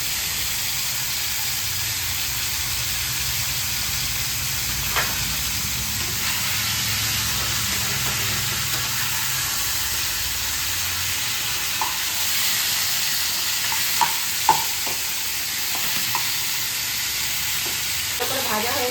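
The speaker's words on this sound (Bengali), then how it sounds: "এই যে কাটা মাথাগুলো আগে ভালো করে ভেজে নেব" Fish heads fry in hot oil, a steady, dense sizzle with occasional stirring clicks and scrapes throughout, close and fairly loud.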